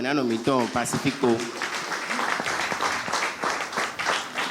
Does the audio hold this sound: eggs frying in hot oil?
no